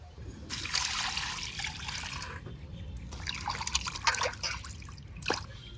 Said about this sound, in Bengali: তবে এঁচড় কাটার আগে মাংস ধুয়ে নেবো